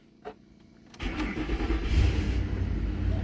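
A Ford F150 with a 5.4L Triton V8 turns over: a short click, then the starter cranks and the engine catches into a steady idle rumble, close and fairly loud, the starter gear seeming to hang on briefly.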